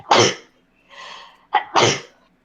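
Two loud, close sneezes, the second preceded by a quick sharp intake, with a softer breathy sound between them; no talking.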